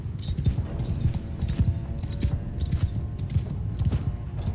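Cavalry horses in Mount & Blade II Bannerlord clatter along in a steady mass of overlapping hoofbeats, a continuous drumming rumble with no talking.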